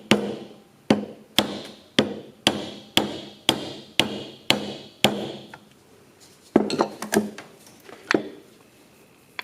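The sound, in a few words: tapping out a tractor piston wrist pin with a screwdriver end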